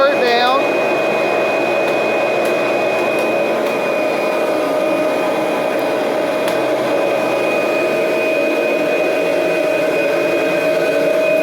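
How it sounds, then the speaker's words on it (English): A 1991 Kirby Generation 3 upright vacuum cleaner runs steadily and loudly for the whole stretch, its motor drone constant with a high whine, vacuuming a floor in neutral with no pauses. "And you basically vacuum the floor."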